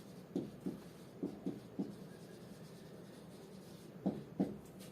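Chalk taps and scrapes across a blackboard during a math lecture, coming in short quiet strokes grouped in bursts with gaps between them, and nobody speaks.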